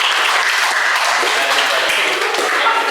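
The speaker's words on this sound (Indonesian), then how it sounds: "Tepuk tangan" A classroom full of students applauds a student group, a steady, dense clapping that fills the room, with voices faintly mixed in.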